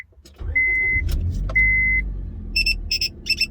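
A used Honda car starting up, with a brief cranking burst and a low engine rumble, a few short electronic chimes and beeps, then a series of quick high beeps near the end.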